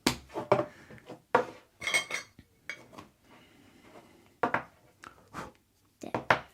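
Lids go onto coconut and soy wax candle jars with a series of sharp clinks and clatters, some close and loud, spaced irregularly with quieter handling noise between them.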